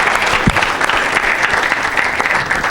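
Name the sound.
congregation applauding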